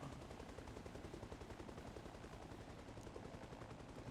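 Rapid automatic gunfire in a video game, a dense continuous burst of shots lasting several seconds at a fairly even level, with no talk.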